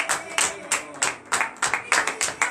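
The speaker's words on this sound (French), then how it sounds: "Donnez l'acclamation à l'Éternel." A congregation at a morning prayer service in Benin claps in a quick, regular rhythm, sharp bursts of hand claps repeating close by with no talking.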